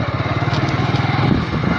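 A scooter engine runs close by with a steady, throbbing low rumble, loud and continuous throughout.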